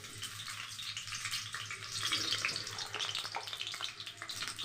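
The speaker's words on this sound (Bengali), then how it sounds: "আলুটা আমি লাল লাল করে ভেজে নেব" Potatoes fry in white oil with a steady, hissing sizzle that swells slightly midway, continuous and close with no talking.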